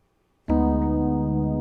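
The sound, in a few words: A flat minor chord over D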